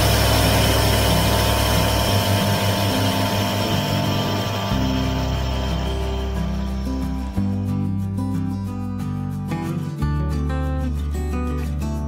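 A small aircraft engine runs loud and steady as it starts for takeoff near Arcachon, a continuous droning hum with shifting pitch and a buzzing vibration throughout.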